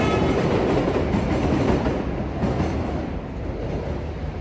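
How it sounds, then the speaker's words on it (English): An elevated subway train in Queens rolls past overhead with a loud, continuous rumble and rattle of wheels on rails, close and alone without voices. "as the subway rolls up top"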